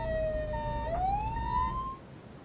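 An ambulance siren in the emergency-services game Flashing Lights, a clear wailing tone sweeping down and then rising again, loud and close with no talk.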